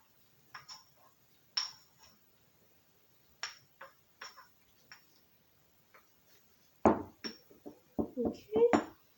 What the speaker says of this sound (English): Gonna mix that up in a circular motion.